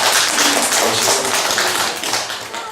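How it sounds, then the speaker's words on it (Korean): A congregation at a church service claps in a steady, dense patter of many hands, fairly loud and close, easing off slightly toward the end. "박수 한번 할까요?"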